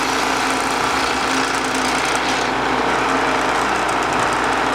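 A drill runs continuously and loudly into black metal drum hoops, giving a dense, high-pitched whine with grinding, unbroken from start to end.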